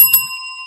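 A single bell is struck once in a garage setting, giving a bright, sharp ding that rings on as a clear, sustained tone fading slowly, loud and alone.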